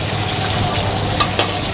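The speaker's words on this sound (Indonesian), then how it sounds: "Ya, kita tumis dulu baksonya biar wangi" Meatballs stir-fry in a wok for a meatball capcay, a steady close sizzle with a couple of brief sharp clacks of the spatula near the end.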